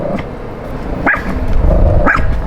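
A dog barks twice, about a second apart, fairly close, over a low steady rumble from a turbocharged BMW E30 M3.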